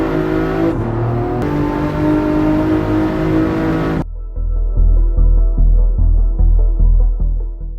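An Aston Martin DB11 engine runs with a loud, steady roar, then cuts to a deep idle pulsed by a series of about nine sharp, evenly spaced throttle blips, heard close and without talk.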